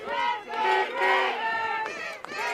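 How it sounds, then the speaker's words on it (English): A packed crowd roars and cheers at a youth under-16 championship football game on a sports field, a loud, swelling mass of voices rising and falling in waves, with a sharp shout near the end. "Crowd getting into it, too."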